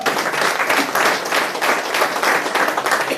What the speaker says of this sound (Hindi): चलिए फिर से एक बार ताली बजा दीजिए।